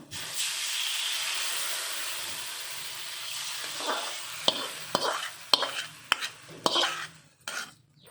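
Crushed garlic, curry leaves and turmeric get stirred into raw tamarind rasam: a soft hiss at first, then a run of sharp clinks and scrapes from a spoon against the vessel, close and moderately loud.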